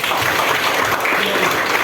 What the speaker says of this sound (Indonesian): terima kasih tepuk tangan Tredo